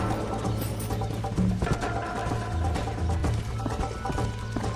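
Horse hooves clip-clop steadily at close range through the whole stretch in the video game Red Dead Redemption, the rhythmic hoofbeats layered over a dense, continuous game soundscape with no talking.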